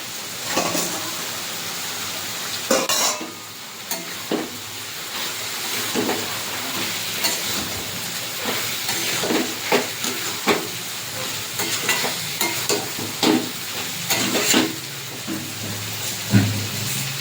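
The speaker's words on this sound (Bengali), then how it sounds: "মোচার সাথে ভালো করে মশলা দিয়ে কষানো হয়ে গেছে, চিংড়ি মাছটা এবার দিয়ে দেবো" Prawns added to a pan of spiced banana flower sizzle and fry steadily, with irregular scraping stirs and clatters punctuating a continuous hiss, close up and without talk.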